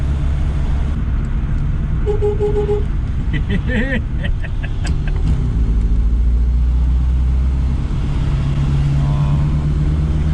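A three-wheeler car drives along with a steady engine drone and road rumble, close and continuous, while people talk inside over it.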